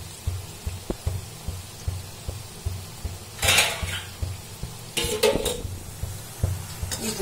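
Shakkar pare frying in a pan until golden brown, with faint steady sizzling under repeated utensil taps and two louder bursts of scraping and clatter from stirring.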